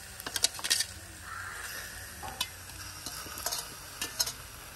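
Fish pieces sizzling in a curry pan for a big-fish chukka curry, with brisk stirring scrapes and taps over a soft continuous fry, close and fairly quiet.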